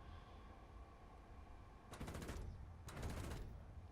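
Aircraft cannon fire in the War Thunder combat flight game, from a Lim-5P jet interceptor: two short, loud, rapid-fire bursts about a second apart, heard over a steady engine drone.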